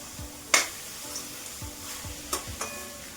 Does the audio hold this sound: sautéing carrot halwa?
yes